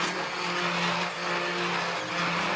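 Immersion blender whirring steadily as it purées cream of asparagus soup, a loud, continuous motor hum with a slight dip in pitch midway and no voices.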